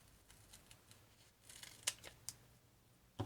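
Scissors snip through sticky pads still on their backing sheet, a few quiet, sharp cuts spaced out over a soft background hush.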